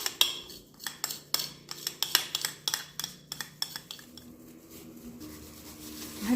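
A metal spoon clinking against a cooking pot as ghee is spooned in for chicken maqluba. The scrapes and taps come in a quick irregular run, then ease into a quieter stir.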